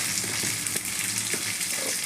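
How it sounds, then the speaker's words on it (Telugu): Sliced beans, carrots and tomato frying with salt in a pan, a dense continuous sizzle with small crackles and the occasional stir, steady and close throughout. "ఇప్పుడు కొంచెం ఉప్పు వేసి వీటిని ఫ్రై చేసుకుందాం"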